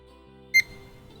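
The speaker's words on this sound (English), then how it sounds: "Like a little beep" A single short, bright soundboard beep effect rings out once, brief and clear against a quiet background.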